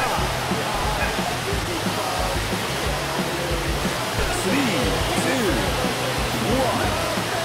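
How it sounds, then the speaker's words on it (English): A raging river in the video game Nippon Marathon roars as a steady wash of rushing water, loud and constant throughout, with faint bits of voice now and then. "It's a raging river underneath us."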